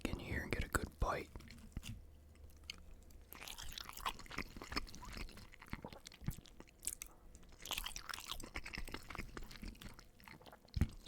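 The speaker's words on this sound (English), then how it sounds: "Subtle chewing, very subtle chew." Soft close-up munching on Domino's loaded tater tots, with crunchy bites and wet chewing sounds, mixed in with quiet whispered talk.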